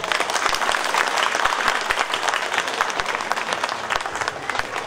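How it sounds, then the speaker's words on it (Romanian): A crowd welcomes a guest at a campaign launch for a UBB mayoral candidate in Dudeștii Vechi with dense, steady applause that holds at full strength for the whole stretch. "Aș vrea să ne întâmpinăm cu aplauze pe domnul Varco Boștinar."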